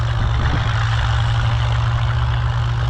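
Vintage tractors, including Minneapolis Moline, John Deere, Oliver and Allis Chalmers machines, idle together at an outdoor plow day. The result is a loud, constant low engine drone with a steady chugging throb and no talking.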